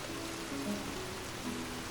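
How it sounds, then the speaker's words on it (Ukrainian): Steady rain hisses across a night map in the game Counter-Strike 2, an Italian-themed workshop level, a dense continuous wash with faint tonal game sounds threading through it and no speech. "нічна і ще й дощ йде"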